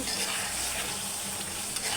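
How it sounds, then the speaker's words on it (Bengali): Steady, continuous sizzling of onions and green chilies frying in hot oil for chicken curry, a dense crackling hiss with faint stirring scrapes, close and fairly loud throughout. "মুরগি গোশের জন্য পেঁয়াজ আর কাঁচামরিচ একটু ভেজে নেব"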